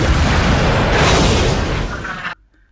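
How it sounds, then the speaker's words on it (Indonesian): A loud, roaring blast of train carriages exploding at a station in a film rumbles for about two seconds, then cuts off abruptly into near silence. "Kecelakaan itu pun menghancurkan stasiun dan hampir seluruh gerbong kereta api itu meledak"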